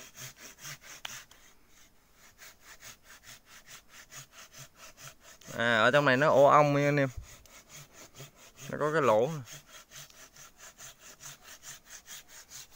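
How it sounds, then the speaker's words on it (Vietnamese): A hand saw cuts into hard wood at a forest clearing where a beehive sits in a hole, a steady rhythmic rasp of back-and-forth strokes running throughout with two bursts of close speech over it. "bây giờ thằng em mình nó đang cưa này"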